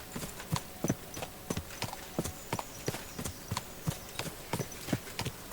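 Horse hooves clip-clopping along at a steady walk in the medieval video game Kingdom Come Deliverance 2, evenly spaced soft thuds continuing throughout, fairly quiet with no talk.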